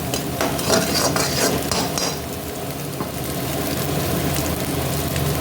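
Egg scrambled and stir-fried in a hot pan for hotel-style chicken noodles, a steady close sizzle with scraping spatula strokes, busier in the first two seconds and then settling into an even fry with no talking.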